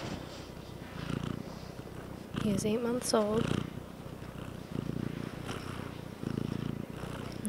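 A tabby cat, eight months old, purrs in a steady low rumble close to the microphone, with a person speaking briefly partway through over the purring.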